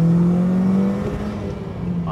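An Audi TT Mk1 engine drones steadily while driving, a close, loud, low hum that eases slightly as it continues.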